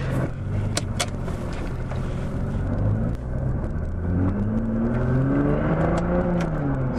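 A Nissan GT-R in R mode drives off with a steady low engine rumble, rising in pitch as it accelerates in the later seconds; heard close from inside the car, with no talking.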